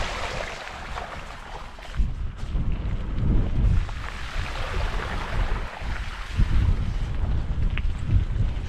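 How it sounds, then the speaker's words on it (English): Gusty wind roars into the microphone on an e-mountain bike ride near Windermere after heavy rain, a loud continuous rumble that swells and eases in waves with no talking. "Starting to get breezy as well"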